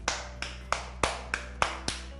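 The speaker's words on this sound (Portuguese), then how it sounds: "palmas para elas" One person clapping slowly and evenly, about seven sharp, close claps in a row with short gaps between them, then quiet.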